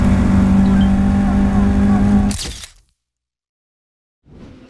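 Classic Caterham Academy race cars at Mallory Park roar loudly with a steady high engine note, then cut off abruptly into silence before faint track noise returns.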